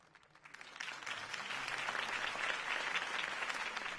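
Crowd applause following a campaign speech in the Telltale Batman video game, swelling from a few claps into steady, dense clapping that holds for several seconds with no talk.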